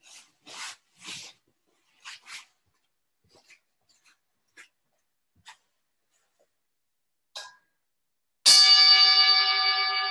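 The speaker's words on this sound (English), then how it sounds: "I'll ring my bowl, and that'll be the start" A singing bowl struck once near the end of a shiatsu session, a bright ringing tone with layered overtones that slowly decays, after a stretch of scattered soft rustles and taps.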